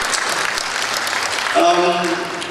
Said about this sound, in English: Please give them warm round of applause.